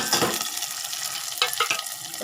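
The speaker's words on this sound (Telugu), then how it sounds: "బాగా ఇది పోపు బాగా వేగాలి" Dried red chillies and tempering spices with onion and garlic sizzle loudly in hot oil in a pan, a close continuous crackling fry with a few sharper pops and stirring scrapes.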